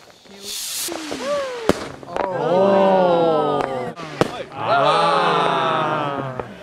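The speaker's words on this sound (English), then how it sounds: "As the hour struck 12, the rockets were launched to celebrate the birth of a new year." Fireworks rockets launched at midnight to celebrate the New Year at a Christmas market, with whistling rising shrieks and sharp pops and bangs, loud and layered, with crowd noise underneath.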